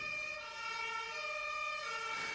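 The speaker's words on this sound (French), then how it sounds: "L'ambulance est là 5 minutes après." An ambulance siren wails steadily and continuously throughout, sounding somewhat distant and muffled, with no voices present.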